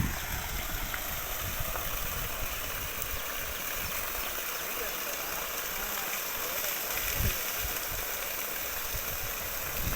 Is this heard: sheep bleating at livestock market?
no